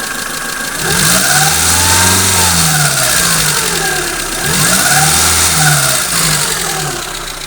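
Car engine revving repeatedly with the accelerator, rising and falling in two loud surges over a steady idle, with a rattling, ticking knock riding on the revs.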